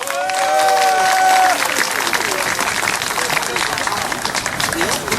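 Audience applause welcomes a singer to the stage at a Gyeonggi charter bus operators' rally, loud sustained clapping with crowd noise after a brief voice over a held tone at the start.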